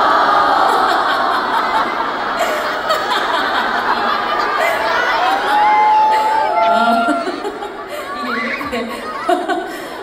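A large concert crowd at a singer's show in Manila lets out a loud, sustained collective reaction, a disappointed groan with scattered laughs and chatter. Several voices stand out within the dense crowd noise.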